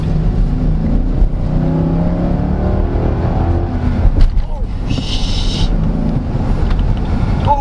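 A 2023 Nissan Patrol Royale Y62 facelift with a 7-speed automatic pulls away from a standstill, its engine a loud, steady roar heard from inside the cabin, with voices talking over it.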